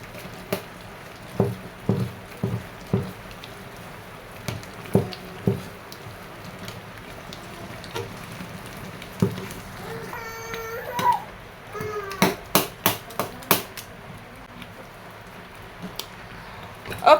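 Stainless spoon chopping boiled water yam for Nigerian ato abre porridge, giving a string of soft, close knocks and squishy cuts at an irregular pace, with a brief clatter partway through.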